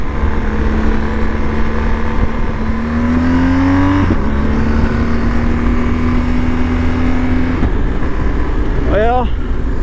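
A BMW R 1250 GS Adventure motorcycle ridden on dry pavement: a steady, loud engine drone with wind rush, pitch rising and dropping as it shifts and accelerates, a brief chirping sound near the end.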